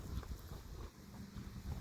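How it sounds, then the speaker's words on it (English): Low, gusty rumble of wind buffeting the microphone outdoors beside apartments in icy winter air, uneven and fairly faint, with no clear voices. "It's a little windy out here."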